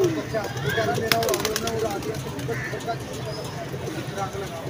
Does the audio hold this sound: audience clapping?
no